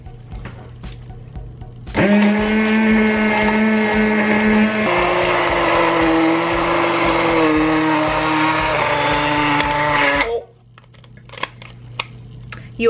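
An immersion blender whirs loudly for about eight seconds in a home kitchen, starting abruptly, shifting pitch partway through, then cutting off into quieter kitchen noises.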